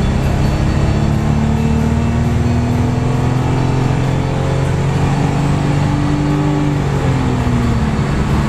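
A Nissan Fairlady Z32 sports car accelerating hard from a rolling start at about 20, its engine note rising steadily and loud throughout with no talk.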